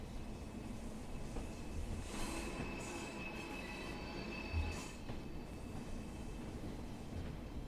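A Class 142 Pacer diesel railbus in Train Sim World passes on the Blackpool branches, a steady rumbling roll with wheel squeal and rail clatter that stays loud and constant throughout, with no talk.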